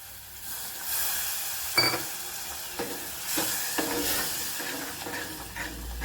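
Soft continuous sizzling of spice paste frying in oil for a prawn curry, with occasional stirring scrapes and clinks, no voices.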